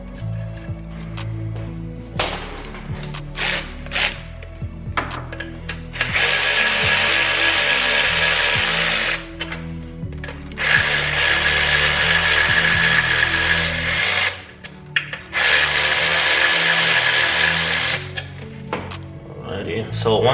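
A power tool drives bolts tight on a BMW E46 engine during head gasket work, with short clicks and bursts at first, then three long sustained whirring runs, loud and close.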